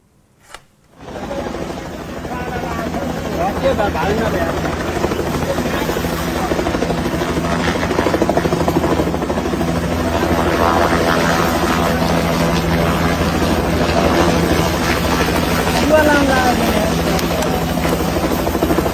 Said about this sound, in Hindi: हेलीकॉप्टर से रेस्क्यू चल रहा है